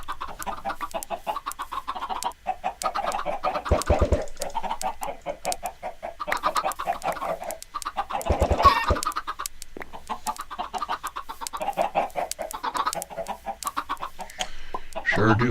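Chickens cluck and squawk in a steady run of short calls throughout a video game building scene, with occasional thuds and clatter mixed in.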